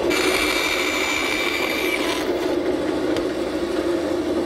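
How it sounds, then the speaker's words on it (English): Saw blade cutting the shoulders of tenons on wooden stretchers for a Morris chair, a steady loud whine of the running machine with a shift in pitch partway through as the cut finishes, close and continuous without speech. "I'm just raising the blade slightly to make the shoulder cut at each edge"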